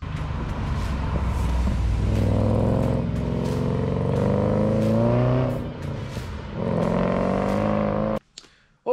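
A supercharged VE/VF Holden Commodore, built with a large supercharger, revs hard and loud for about eight seconds, its engine note rising and falling through repeated throttle blips before it cuts off abruptly.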